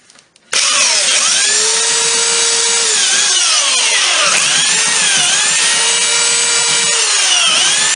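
A belt sander works down wooden pocket hole plugs, its motor starting with a sharp onset and holding a loud, steady whine with pitch dips as the belt bites into the wood, running continuously for several seconds before cutting off.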